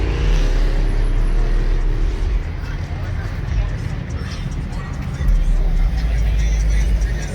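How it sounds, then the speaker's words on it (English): A Ford Mustang's engine rumbles loud and close at a car meet, a heavy low drone that swells near the end, with people talking over it. "Mustang sound crazy."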